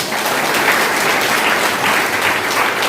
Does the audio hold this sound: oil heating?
no